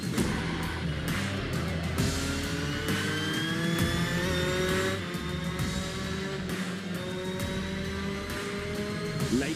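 Race cars driven by Jess White and Chloe Grant accelerate and rise through the gears on a circuit. Their engines whine loud and close in rising, overlapping sweeps as they go up and down through the revs.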